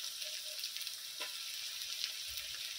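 Onion, garlic and ginger paste frying in a pan, cooked down for a chicken-skin dish, giving a steady close sizzle throughout with a couple of faint stirring scrapes.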